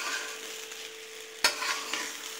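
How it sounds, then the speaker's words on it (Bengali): Pulao rice frying in a pan while being stirred, a close, even sizzle with one sharp scrape or clack of a spatula midway, no voices. "এখন আমি ভালো করে নাড়াচাড়া করে নিচ্ছি। এইভাবে করে নাড়তেই থাকতে হবে, নাহলে লেগে যাবে।"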